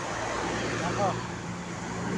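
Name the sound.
trucks and traffic passing on a road in Villasis, Pangasinan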